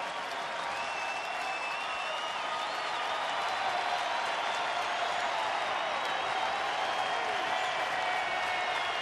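A sold-out crowd at a professional baseball game, Pittsburgh at Philadelphia, rises to its feet cheering; a dense, steady roar of applause and shouting fills the stadium continuously, swelling slightly toward the end.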